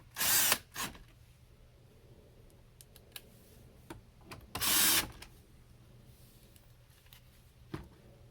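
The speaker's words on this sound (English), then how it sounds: "And let's put these screws back in." Screws are driven back into an interior trim panel of a 2016-2019 Chevy Cruze with a power driver, two loud buzzing bursts of about half a second each, separated by quiet clicks and light taps of handling.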